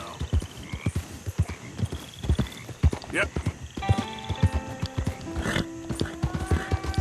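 Hooves clip-clop at a steady gallop as a horse is ridden in Red Dead Redemption 2, with the rider briefly speaking over the rhythmic thuds and a faint snort.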